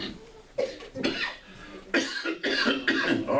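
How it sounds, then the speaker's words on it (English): A man coughs in a few rough, separate bursts, loud and close, with short breaths and pauses between them and no other sound around them. "I'm going to cough because I'm lying."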